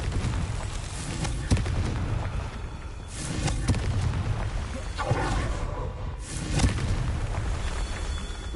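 Confringo fire-blast spell explosions in a Hogwarts video game: a run of heavy, rumbling booms arriving every second or two over a dense, roaring background of game noise.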